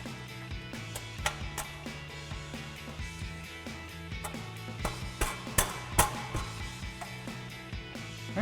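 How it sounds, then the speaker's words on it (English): Metal exhaust clamps for a Tacoma dual exhaust clink and rattle as they are handled and slid over the pipes, a scatter of light, irregular metallic ticks and clanks at close range, moderately quiet with no talk. "so we're just gonna slide our 2 clamps over"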